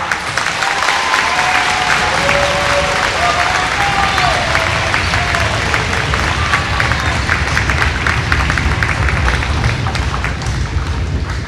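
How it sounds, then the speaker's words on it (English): Sustained loud applause from an audience at an elementary school awards ceremony, dense clapping filling the room steadily for over ten seconds with scattered cheers mixed in. "give Mrs. Visperna's class a round of applause"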